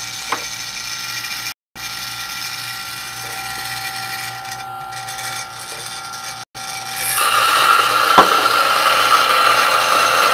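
Steady, close mechanical ratcheting and clicking from a Turin DF64 coffee grinder as its grind size is adjusted, with a continuous whirring hum beneath that swells louder near the end.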